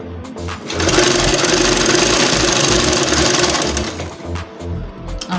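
A sewing machine stitches fabric layered with newspaper, running in a steady, fast mechanical rattle with rhythmic knocking that stays loud and close for most of the stretch, then slows and stutters near the end.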